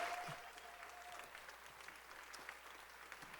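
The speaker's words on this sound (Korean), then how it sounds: "우리 다음 세대 아이들을 위해서 격려 박수 보내주세요." A church congregation applauds children during a Sunday thanksgiving service, with steady, fairly faint clapping from a large room and a brief vocal tone near the start.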